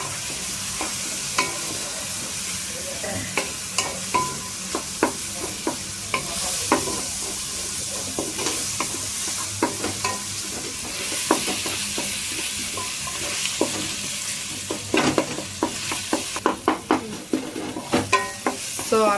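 Tomatoes stirred in an oily cooking pan with a constant sizzle and frequent, rhythmic scrapes and taps of a spoon against the pan throughout.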